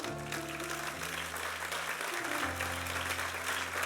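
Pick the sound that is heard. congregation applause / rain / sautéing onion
congregation applause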